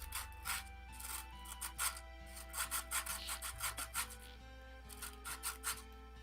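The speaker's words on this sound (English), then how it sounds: "So I've got the 400 grit sandpaper still." A cosplay prop is sanded by hand with 400 grit sandpaper, giving repeated rhythmic scratchy rubbing strokes in short bursts, close and fairly quiet, over a steady low background hum and without talk.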